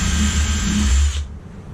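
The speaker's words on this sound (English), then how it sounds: "first we're going to drill the hole" A power drill buzzes steadily at close range drilling a pilot hole in wood, then cuts off abruptly, leaving near silence.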